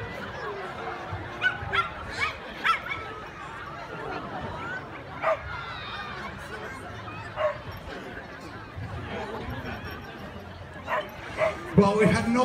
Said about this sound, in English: now we have a bubble-eating dog